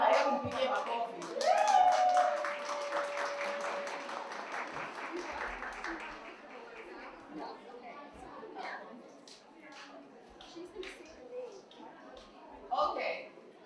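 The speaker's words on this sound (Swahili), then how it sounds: "Hebu mpigie makofi" An audience at an International Women's Day celebration claps in an uneven patter that grows sparse, with a tonal sound near the start and speech mixed in.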